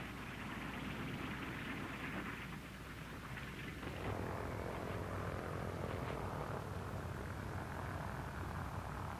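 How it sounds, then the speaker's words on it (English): A B-17 Air Force drone aircraft lands at Eniwetok during the 1946 atomic tests. Its engines roar steadily and loudly throughout, with the tone shifting partway through. "B-17 Air Force drones land at Iniwetok."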